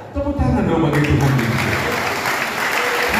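Church congregation clapping in praise to God during a sermon. Loud, sustained group applause runs throughout, swelling after a brief start and holding steady, with a few voices mixed in.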